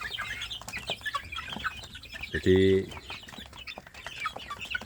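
Free-range village chicks peep busily throughout while a hen gives a brief, loud cluck midway, heard close with a voice speaking briefly among them.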